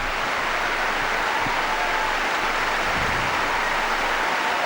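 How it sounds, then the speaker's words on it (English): A huge standing ovation for a figure skater at the 2007 World Championships women's short program: dense, sustained crowd applause filling the arena, loud and steady throughout with no break. "Huge ovation."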